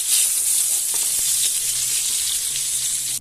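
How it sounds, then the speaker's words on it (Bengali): Panch phoron and slit green chillies sizzling in hot oil, a bright, loud crackling hiss that holds steady close by and cuts off sharply at the end. "এই তেলের মধ্যে আমি 5 ফোড়ন দিয়ে দিচ্ছি আর কাঁচা লঙ্কা চেরা দিয়ে দিচ্ছি।"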